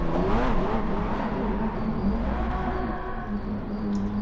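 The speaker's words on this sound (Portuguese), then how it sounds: "Deixei vocês ouvir ali. O V12 aspiradão. V12 BMW, vale lembrar." The naturally aspirated 6.1-litre BMW V12 of a McLaren F1 in the video game GT Sport drones steadily at high revs, a continuous loud engine note with slight pitch shifts.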